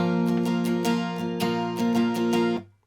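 Acoustic guitar strums a chord in a steady verse pattern of repeated down and up strokes, close and full, ringing out alone before stopping abruptly near the end.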